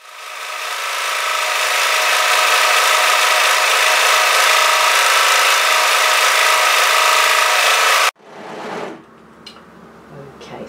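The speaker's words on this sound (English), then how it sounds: "Just serge through that because you will be able to see the notches through your stitches." Serger overlock sewing machine stitching a fabric edge on a beanie, a loud steady motor whir that holds for about eight seconds and then stops abruptly, leaving fainter handling sounds.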